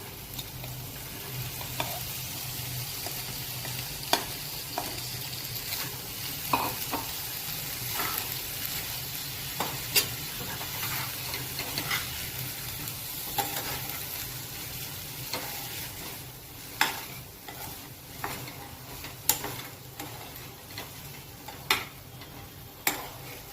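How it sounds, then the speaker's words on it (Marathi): Jowar (sorghum) stirred in a hot pan for khichdi, a soft continuous sizzle with scattered scraping clicks and taps from the spoon against the pan, fairly quiet. "आता आपण ही ज्वारी त्याच्यात घालून घेऊ"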